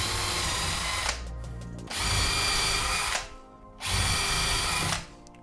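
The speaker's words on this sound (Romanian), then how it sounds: "Noi o să-l punem cu burghiu pentru pregăurire și o să facem câteva găuri." A power drill fitted with a Wolfcraft Flipbit bit drives pilot holes in three loud, whining bursts of about a second each, separated by short pauses in which the motor winds down.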